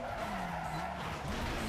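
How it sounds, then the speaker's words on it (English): A car braking hard in Need for Speed Most Wanted lets out a long, loud tire skid over a steady engine roar, the screech holding through the whole moment with no pause. "Maybe hit the brakes a bit too hard there."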